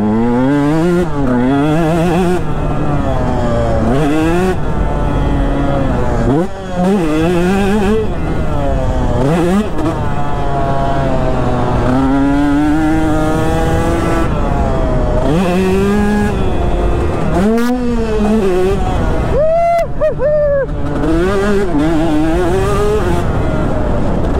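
A KTM 150 SX two-stroke motocross bike revs hard and close, its engine pitch climbing and dropping in repeated bursts as the rear wheel spins on a sandy track, loud and continuous with brief throttle chops.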